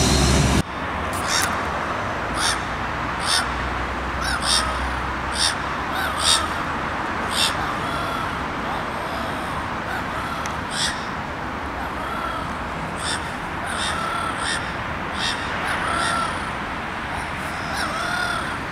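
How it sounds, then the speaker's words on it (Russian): Seagulls in Chelyabinsk, Russia, give repeated harsh calls throughout, some near and some farther off, over a steady outdoor rumble of distant traffic. "Чайки в Челябинске."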